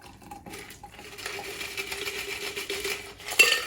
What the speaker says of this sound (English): Now that I've shaken this, I'm gonna pour my cocktail